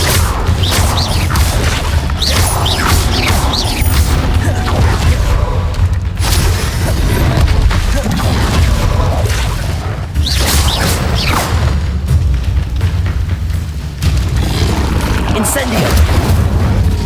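Booming fire spell blasts and crashing impacts in Hogwarts Legacy, a loud continuous barrage of whooshes and explosions with combat voices underneath.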